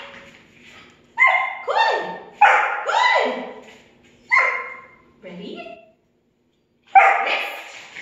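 A puppy barks and yips in short excited bursts, several clear barks with brief pauses, close and fairly loud, during a tug-and-chase toy game as part of bark-for-the-toy training.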